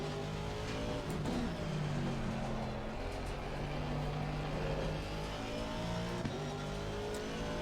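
A race car laps a track in Assetto Corsa Competizione, its engine droning steadily and rising and falling in pitch through gear changes, with no one talking over it.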